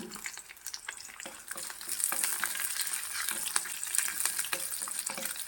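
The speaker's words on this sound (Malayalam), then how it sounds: "ഒരു മൂന്ന് പച്ചമുളക് നടുവേ കീറിയത് കൂടിയിട്ട് ഒന്ന് ഇളക്കി കൊടുക്കാം" Garlic and three slit green chillies stirred in a frying pan for a netholi fish curry: an even sizzle, louder after a couple of seconds, broken by rapid, frequent ladle clicks and scrapes.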